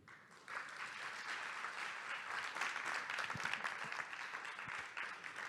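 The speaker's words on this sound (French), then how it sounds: "le meilleur moment, c'est quand on nous applaudit" An audience applauds after a talk, a steady wash of many hands clapping that rises quickly and carries on evenly, moderately distant, with no voices over it.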